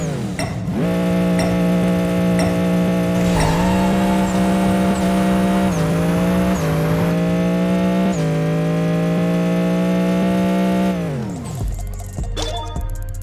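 A NASCAR race car in the Apex Racer video game roars at a sustained high pitch, its engine note stepping up through gear shifts and rising for about eleven seconds before cutting off abruptly, with no talking over it.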